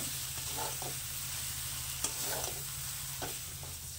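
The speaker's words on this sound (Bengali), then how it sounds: "মশলা কষানোর পর দিয়ে দিচ্ছি কেটে রাখা শিমগুলো। দিয়ে আঁচ কমিয়ে একটু ভেজে নেব।" Chopped flat beans frying on low heat in a spiced masala for Bengali seem kalia, a soft continuous sizzle with scattered close scrapes of a spoon stirring the pan.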